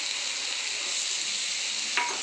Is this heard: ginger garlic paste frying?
yes